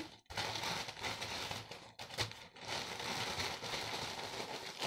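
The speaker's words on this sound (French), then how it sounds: "Et là, je roule mon papier journal." Newspaper rustles and crinkles softly as a sheet is rolled up by hand for a recycled cardboard-and-paper Christmas wreath, a steady close papery friction with a couple of brief pauses, fairly quiet and without speech.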